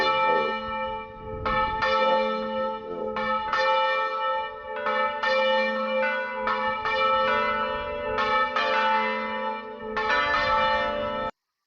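A church bell rings repeatedly in a rich, overlapping series of loud metallic strikes, each leaving a long humming decay that blends into the next, with no voices.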